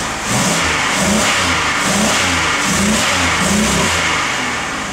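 A 2001 Chevy Impala with the 3.4L engine, flashing a check-engine light and previously bogging, revs steadily and loudly up close, its mid-pitched engine note rising and holding for several seconds with no talking.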